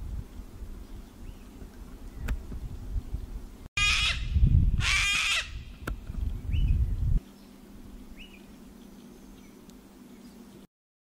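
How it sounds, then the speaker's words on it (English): African grey parrot calling: a pair of loud, sharp whistling squawks close up, followed by a few faint short chirps over low background noise. "African gray parrot."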